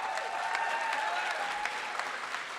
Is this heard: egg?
no